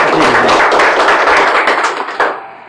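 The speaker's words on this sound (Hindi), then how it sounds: "एक जबरदस्त ताली आप लोग" A loud, close burst of audience clapping erupts at a Sunday motivational meeting, many hands beating together in a dense patter that tapers slightly before a final sharp clap.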